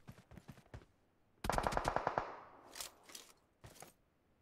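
Automatic gunfire in an online shooter game: a quick string of shots, then a longer rapid burst, followed by scattered single and double shots, sharp and fairly close.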